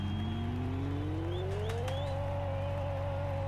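Engines of a Ferrari F40 with turbo and a Volkswagen Fusca race in the Pixel Car Racer video game, a steady droning motor whose pitch climbs smoothly as it accelerates, with brief higher chirps, loud and constant.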